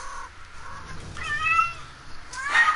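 A pet cat meows for attention near a game being played, giving a few rising, tonal calls with a drawn-out one in the middle and a louder one at the end, heard alone with no talk.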